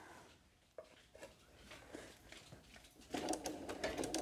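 A sewing machine stitches down quilt binding in the ditch: a soft, uneven mechanical whir that builds into a louder, steady running rattle in the last second, with no talking.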